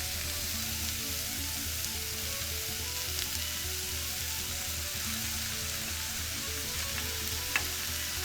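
Ground beef and ground lamb fry in a pan with a continuous, even sizzle, broken by occasional stirring and scraping, close and steady with no voices.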